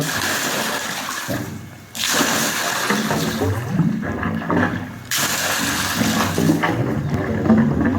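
Water gushes hard under pressure from a Shakti 3 HP solar pump at midday, a loud, close, continuous rush and splash that briefly dips, then surges back.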